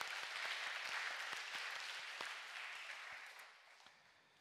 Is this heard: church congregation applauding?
yes